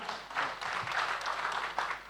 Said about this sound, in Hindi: हमारे कुश्ती के हेड कोच विनोद जी के लिए ताली बजा दीजिए जोरदार।